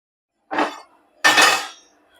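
Two clinks of cookware as a pan is set down on a home stove before cooking a paneer, potato and mushroom gravy: a short metallic knock, then a louder, brighter clatter, close and alone.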